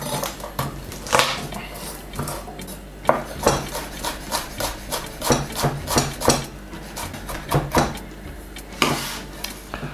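Garlic is stirred into a chicken-wing marinade of smoked paprika and khmeli-suneli. A utensil scrapes and clinks steadily against the bowl in close, rhythmic strokes.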